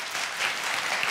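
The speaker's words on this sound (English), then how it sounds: "Clap if you know her." An audience claps together in a steady wash of applause, close and even, with no voices rising above it.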